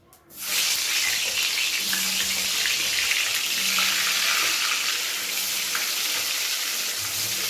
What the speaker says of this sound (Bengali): কড়াই গরম হয়ে গেছে, এখন আমি তেল দেব।